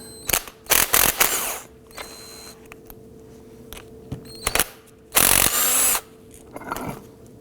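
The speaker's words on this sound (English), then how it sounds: "Let's go ahead and remove our bolts using a 14mm socket." A power tool removes front brake caliper bolts with a 14mm socket on a 2005-2009 Subaru Legacy, in several short loud whirring bursts separated by quiet pauses, with one longer burst near the end.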